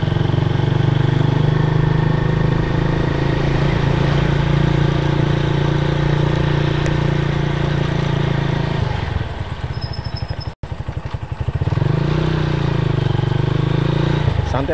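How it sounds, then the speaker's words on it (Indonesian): A motorcycle being ridden gently to break in a freshly rebuilt engine drones steadily and close, with a brief dip and rough patch as the revs change before the hum settles back, wind noise throughout. "intinya kita ini lagi ngerayan motor ya"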